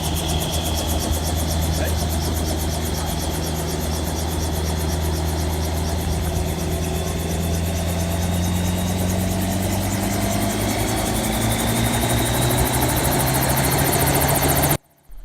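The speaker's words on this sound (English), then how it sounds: "the crazy loud and annoying helicopter noise" A helicopter roars loudly and steadily with a continuous rotor chop and engine whine, close up, cutting off abruptly at the end.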